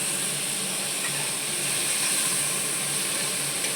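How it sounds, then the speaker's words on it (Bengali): Spice paste sizzles steadily in a hot pan after a splash of water is added for frying the masala, a continuous close hiss with no pauses and no voices. "সামান্য একটু জল দেবো মশলাটা ভালো করে কষানোর জন্য"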